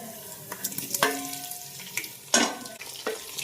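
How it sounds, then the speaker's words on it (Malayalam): Chopped tomatoes sizzle in a pan for mackerel curry, stirred with repeated scraping and clattering strokes over a soft, steady frying crackle, heard close up. "തക്കാളിയുടെ പച്ചമണം എല്ലാം നന്നായി പോകുന്നത് വരെ ഇളക്കിയെടുക്കുക"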